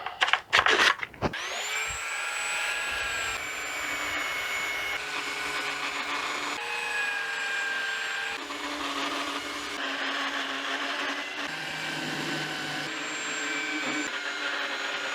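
A power sander running with 80-grit sandpaper on a wooden CLC Passagemaker dinghy, starting after a few sharp knocks and then holding a loud, steady whine that shifts pitch slightly as pressure changes, close up and with no voices.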